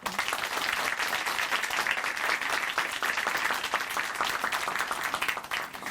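An audience at a Korean Christian television testimony program applauds steadily for several seconds, a dense, even wash of many hands clapping with no voices on top.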